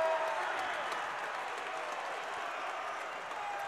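Basketball crowd inside the Holmes Convocation Center during an Appalachian State home game against East Tennessee State, a continuous roar of cheering and clapping filling the arena, with shoe squeaks and a commentator's voice over it.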